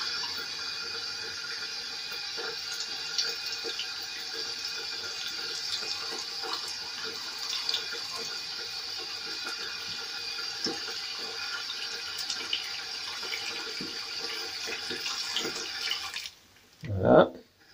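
Hot water runs steadily from a tap over the handle of an axe for about sixteen seconds, a continuous close splashing rush, then the flow stops and a brief low knock follows.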